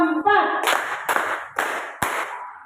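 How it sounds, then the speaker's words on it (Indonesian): A class of children claps on a teacher's count during a classroom lesson. A voice speaks briefly, then four sharp, evenly spaced claps ring out near and crisp, each dying away before the next. "Tepuk satu. Tepuk dua. Tepuk tiga."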